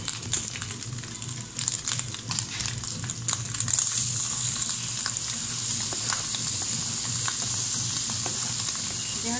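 Egg with ham and green chile fries in a pan, a steady close sizzle with crackling spits that swells briefly midway and holds on without talk.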